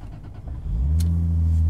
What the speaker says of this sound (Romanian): în momentul în care apeși ambreiajul destul de tare și pui contactul,